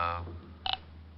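Telephone dialing effect in a 1949 Richard Diamond radio detective drama, a short burst of tones followed by a few quick clicks, heard just after a voice.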